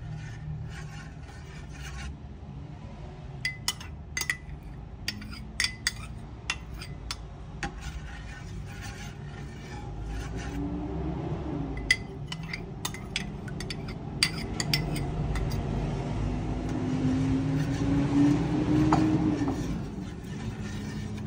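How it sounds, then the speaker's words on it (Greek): Yogurt mixture being stirred in a pot, with soft scraping and faint clinks of a utensil against the sides repeating irregularly over a low steady background. "Ανακατεύω να πάει παντού."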